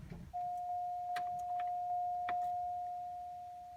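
A 2005 Cadillac DeVille with a misfire goes quiet as its engine is switched off, leaving a steady electronic tone and a few faint clicks in a near-silent cabin.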